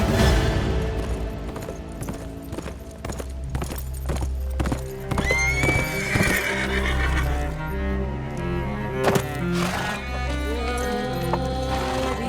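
Horse hooves clip-clop on the ground while a horse neighs loudly, set in a historical drama of Sultan Salahuddin's era. The hoofbeats and whinnies come close and prominent over a continuous musical score.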